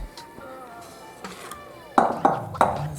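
Cooked ham being put into a bowl, with three sharp dish clatters near the end after a quieter stretch of faint kitchen sounds and ringing tones.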